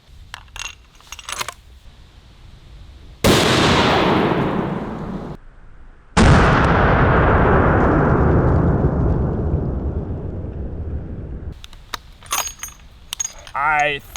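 Two loud .50 BMG armor-piercing incendiary tracer rifle shots strike a bowling ball outdoors on a hillside. Each sharp, powerful blast rolls into a long echoing decay, with quieter rustling before and after.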